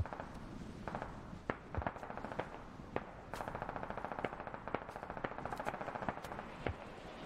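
Rapid bursts of automatic AR rifle fire crackle in the military video game Squad, sharp repeated shots landing in quick clusters at moderate distance, with no talking.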